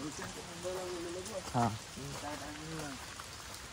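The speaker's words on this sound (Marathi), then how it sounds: "पावसाचं वातावरण असं आहे" Steady rain falls during a monsoon trip on a hillside road near Nivati, a soft continuous patter throughout, with someone speaking briefly over it.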